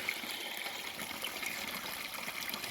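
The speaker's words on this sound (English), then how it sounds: "Now I'll tell you, there's a whirlpool right there." Water swirls and trickles steadily in a creek whirlpool where a forager is about to ford, a close, continuous burbling wash with no voices over it.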